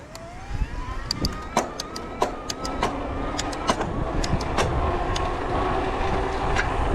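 A Vanpowers UrbanGlide Ultra e-bike with a torque sensor and no throttle picks up speed under pedalling, its motor whine climbing steadily in pitch over scattered clicks and road noise.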